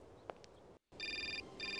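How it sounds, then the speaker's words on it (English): Telephone ringing in the adventure game Syberia, two bursts of a bright electronic ring following a short silence, with faint clicks and footsteps before it. "that's a lot of phone calls"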